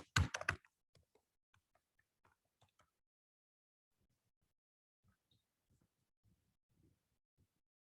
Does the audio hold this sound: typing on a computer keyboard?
yes